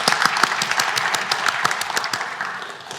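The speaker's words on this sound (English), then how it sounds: "Please give her a round of applause." Dense, steady applause fills a debating chamber at the Cambridge Union as an audience welcomes a guest speaker, many hands clapping together and tapering slightly toward the end.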